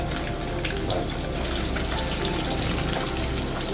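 Four pieces of katla fish fry in hot oil in a pan, giving a steady, dense sizzle that stays at an even level from start to end, with no speech.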